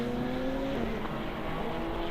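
Touring cars in an endurance race at BalatonPark, with engines droning steadily at a distance and a shifting engine note as cars hold speed on the circuit.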